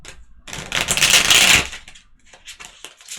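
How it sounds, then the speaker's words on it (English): A tarot card deck being shuffled, a dense riffling burst of card noise lasting about a second, close and loud, followed by lighter scattered card taps and slides. "That one didn't want to shuffle."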